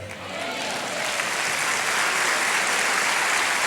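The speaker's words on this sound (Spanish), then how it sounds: "Dale un aplauso grande al Señor." Congregation clapping during a Spanish-language church service, a sustained, steady wash of hands that swells slightly and holds at full strength throughout.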